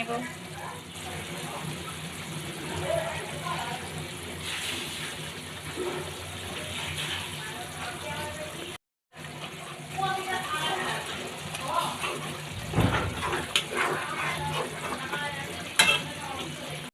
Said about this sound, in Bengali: এখন মাছটা সুন্দর করে ফুটিয়ে নিচ্ছে